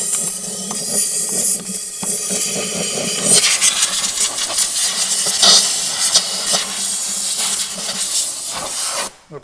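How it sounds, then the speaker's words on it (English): A compressed air line blows water out of a spark plug hole on a Ford Fiesta engine, loud sustained hissing bursts with brief pauses and clatter, ending abruptly. "Again, we're going to blow out the water that's in the hole there."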